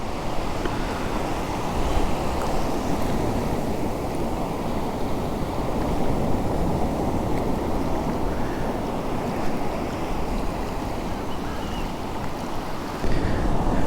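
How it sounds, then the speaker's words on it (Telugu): Ocean waves roll onto a quiet, empty beach in the early morning, a continuous loud surf roar mixed with heavy wind buffeting the microphone, no voices. "ఎర్లీ మార్నింగ్ బీచ్ అయితే ఇంత పీస్ఫుల్గా ఉండింది"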